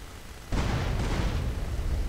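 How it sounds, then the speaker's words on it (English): Sudden loud blasts erupt after a brief quiet moment in GTA San Andreas, gas tanks exploding in a dense rumbling burst that keeps booming and crackling close by. "Oh my god, I was too close to those explosions."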